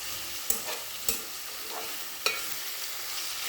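Curry sizzles steadily in oil in a pan, with a few sharp scrapes and knocks from stirring standing out over a soft, continuous frying hiss.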